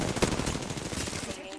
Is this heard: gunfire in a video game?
yes